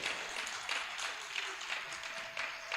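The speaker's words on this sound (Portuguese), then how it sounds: "Dê um forte aplauso ao Senhor" Church congregation at a weekday teaching service in Brazil applauding, a soft, steady patter of many hands clapping for a few seconds, heard at a distance and fairly faint.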